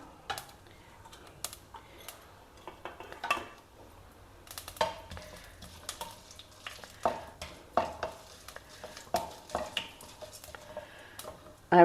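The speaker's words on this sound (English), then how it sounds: "When the oil is hot, add some mustard seeds, urad dal, a little bit of jeera" Mustard seeds, urad dal and jeera fry in hot oil in a kadai, crackling and popping in quiet, irregular bursts over a faint sizzle.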